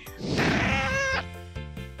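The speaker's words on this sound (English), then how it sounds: "It sounded like a cat in trouble." A cat meowing as if in trouble, one long drawn-out wailing meow rising and bending in pitch, loud and close, followed by a few short softer sounds.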